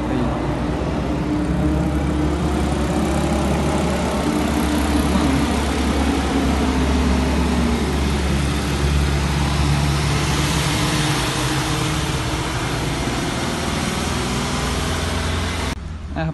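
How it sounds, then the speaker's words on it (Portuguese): A truck rumbles past on a street in Brazil, a steady, loud low engine drone that holds throughout with no speech. "Rapaziada, o caminhão já passou ali, certo?"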